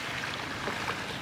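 Waves wash back down a shoreline in a continuous hissing, broadband rush of surf, fairly quiet and even, with no voices.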